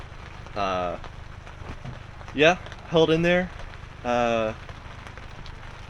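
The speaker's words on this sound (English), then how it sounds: "The rain on my goggles didn't bother me as much as I was expecting." Rain patters steadily on goggles during a wet race, a soft continuous hiss in the background beneath a few short bursts of someone talking.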